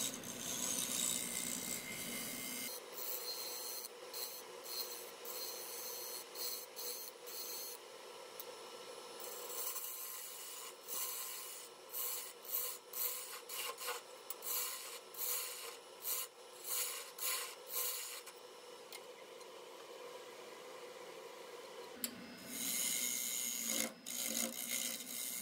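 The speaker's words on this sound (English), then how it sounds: "Using the skew chisel here to define where the inside of the bowl is going to be and the rim" Skew chisel cutting a wooden bowl with resin rings on a lathe, giving a steady close scraping rasp with stuttering bursts and brief pauses, continuous over the running machine with no voices.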